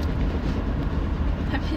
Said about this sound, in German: Ja. So ein schöner Zug, ne,